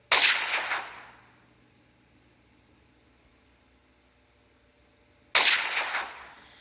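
Two loud, sharp gunshots from a modded firearm in Minecraft ring out about five seconds apart, each with a quick decaying tail, and silence falls between them.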